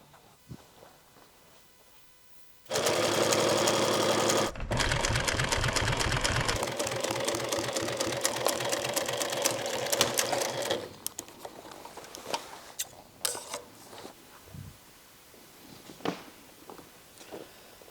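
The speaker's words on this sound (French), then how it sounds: "on coud les deux pièces à l'envers" Sewing machine stitching leather seat cover pieces for a DeLorean, running in a loud close continuous rapid whir for several seconds, then slowing into scattered clicks and taps of handling.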